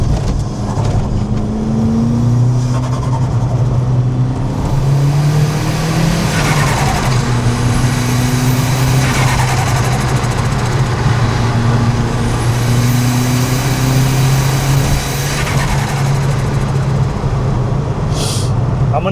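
An engine-swapped car with heavy torque steer drives hard and accelerates, its loud, steady engine drone holding throughout with rising and falling revs, heard from inside the cabin.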